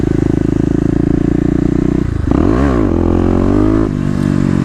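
A Kawasaki KLX250 dirt bike fitted with a 13-tooth rear sprocket idles loudly nearby, then the engine revs up sharply as the clutch is popped to lift the front wheel, and drops back to a steady throb.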